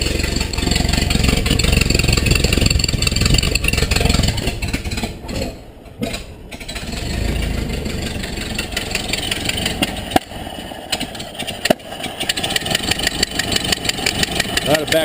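A 1930 Ford Model A engine, brought back to life after 37 years, cranks and catches, then runs roughly with loud clattering idle and uneven revs, with a brief dip mid-way before it picks up again.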